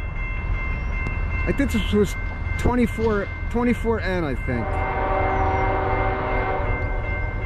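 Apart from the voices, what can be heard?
Norfolk Southern freight train passing eastbound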